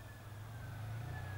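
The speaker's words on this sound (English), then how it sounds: "An alarm? It's from a car. Car alarm." A car alarm drones in the background, a faint, steady tonal wail that continues without pause.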